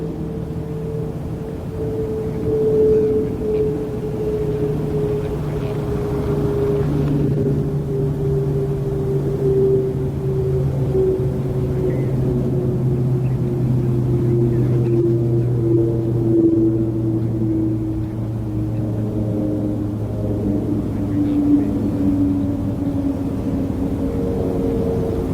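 A steady propeller aeroplane drones overhead near East Midlands Airport, its low engine hum holding for the whole stretch and slowly shifting pitch as it passes.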